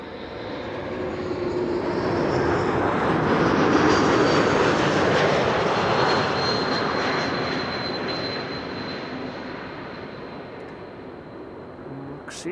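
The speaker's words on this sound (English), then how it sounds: "the path has been cleared for KLM flight 1020 arrival from Leeds. E2 Embraer 195" KLM Embraer E195-E2 airliner arriving at Amsterdam Schiphol, a broad engine roar that swells as the jet passes overhead and then slowly fades into the distance.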